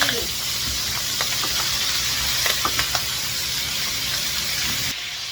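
Meat browning in a frying pan for sweet and spicy adobo, seasoned with salt and pepper, sizzling steadily with a bright hiss and small crackles, close and continuous.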